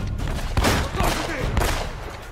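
Bursts of heavy gunfire in the PS3 video game Uncharted: Drake's Fortune crack and boom up close, several loud shots in quick succession with a rumbling tail, the shots also destroying the surroundings.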